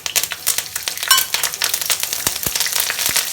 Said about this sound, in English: once the oil gets heated up, add curry leaves to it